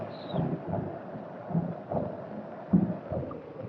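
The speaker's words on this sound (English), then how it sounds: "to the throb of the engines" A ship's engines throb at night aboard a Dutch vessel, heard as a low, steady rhythmic pulsing with soft irregular beats and a faint background hum, with no talking.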